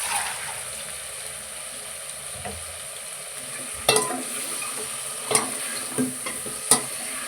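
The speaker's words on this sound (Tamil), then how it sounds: "ஒரு 2 நிமிஷம் அப்படியே சுருள அப்படியே வதக்கி விட்டுங்க" Small eggplant pieces and drumstick sautéing in a pan for sambar, a soft steady sizzle broken by several sharp stirring scrapes toward the end.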